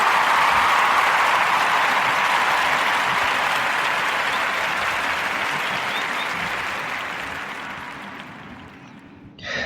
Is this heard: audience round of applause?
yes